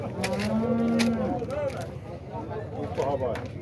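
A dairy cow at a cattle fair lets out one low moo near the start, with people talking over a busy background.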